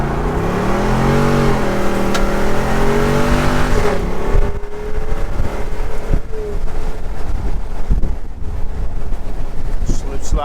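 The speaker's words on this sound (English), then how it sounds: "Let's do a brake torque here." A Jeep Wrangler 392 V8 held on the brakes revs hard in a loud, rising engine roar that drops away after about four seconds into rough wind-buffeted rumble and crunching ground noise.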